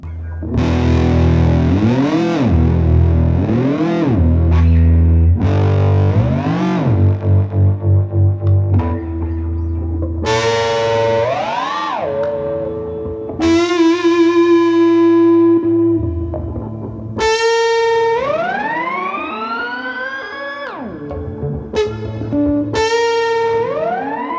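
Trumpet run through a Boss PS-5 Super Shifter pitch shifter pedal, loud and distorted, with swooping pitch bends and harmonised shifted notes in a long continuous run of phrases, no talking.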